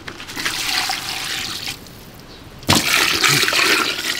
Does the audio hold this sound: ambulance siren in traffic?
no